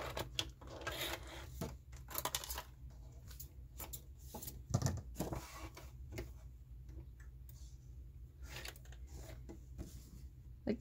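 A domestic sewing machine stitches up the side of a fabric pocket, giving a soft, quick mechanical ticking that runs in short bursts and pauses, fairly quiet and close, with no talking.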